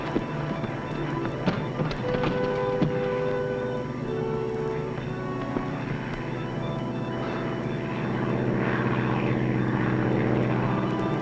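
A 1940s propeller airplane drones overhead, a loud, steady engine tone with layered harmonics that swells slightly toward the end, with no talk.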